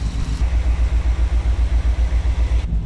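A 1986 Chevy G20 van engine drones steadily while cruising on a test drive, with a low pulsing rumble that repeats in even beats. The sound is close and fairly loud, and nobody speaks.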